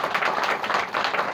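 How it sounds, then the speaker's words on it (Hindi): An audience claps steadily for the founder of RCM at a gathering, a continuous dense wash of applause that holds at an even level. "एक बार जोरदार ताली उनके लिए।"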